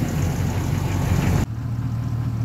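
A Hummer H2 engine runs cold at a steady idle with a freshly repaired exhaust manifold, a low even rumble recorded close; the tone shifts slightly partway through.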